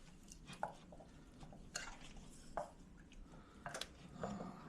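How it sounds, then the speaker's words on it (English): A spoon stirring an egg bake mixture with dried onions, giving soft scraping taps against the bowl and wet squishing sounds, faint and irregular in a quiet kitchen. "Go ahead and give it another stir."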